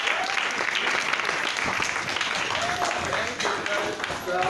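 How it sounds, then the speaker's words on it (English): An audience applauds a speaker at a business and youth employment lecture in Nigeria, a sustained wash of clapping with voices talking and calling out over it. "Another round of applause."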